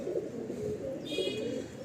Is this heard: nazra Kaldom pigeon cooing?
yes